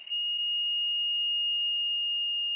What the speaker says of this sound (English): we'll hook it up to this small buzzer.